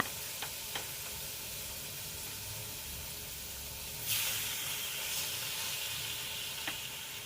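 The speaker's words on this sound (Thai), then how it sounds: "ก็เป็นการ ย่างด้วยไฟอ่อนๆ ด้วยกระทะ" Marinated chicken grills skin-side down in a dry pan over low heat, giving a quiet, steady sizzle with a few small pops and a brief louder hiss midway.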